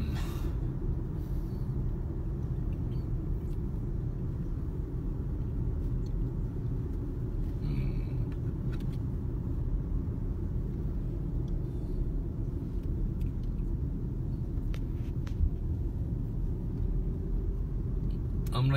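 A car cruises along an empty road near Banff, Alberta, heard from inside as a steady, low engine and tyre rumble. The drone stays even throughout, with a few faint clicks and no talking.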